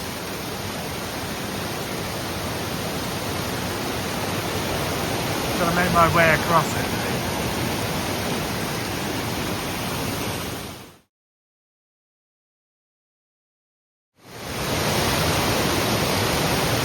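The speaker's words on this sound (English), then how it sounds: "I am now in the middle of a waterfall." Steady broadband roar of rushing water fills the scene, with someone speaking briefly over it and a short break of silence near the end.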